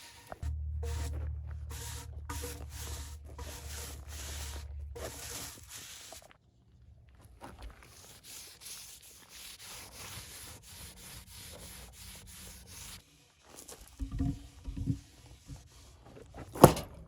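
Steady scratchy brush strokes applying linseed oil to a wooden shed support beam, continuous for several seconds, then quieter scraping and a few sharp knocks near the end.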